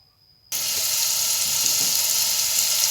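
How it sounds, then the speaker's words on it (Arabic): Chopped onions hit hot oil in a pan for kofta and break into a loud, steady sizzle after a brief quiet start. The frying hiss stays close and constant, and no one speaks. "فانا دلوقتي ان انا احط الزيت واحط البصل عشان نعمل التغذيه"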